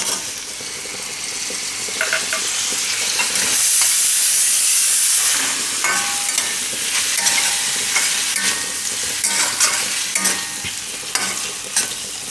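Chopped tomatoes tumble into onions frying in a pan for a Gujarati cauliflower oro, then a spoon stirs through them; a loud steady sizzle and hiss runs throughout, with a brief steamy burst near the start and scraping stirs, no talking.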